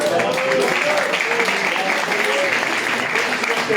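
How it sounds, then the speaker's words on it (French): A church congregation applauds in a continuous, loud wash of clapping that holds steady throughout, with voices and singing mixed in beneath. "on peut applaudir le Seigneur"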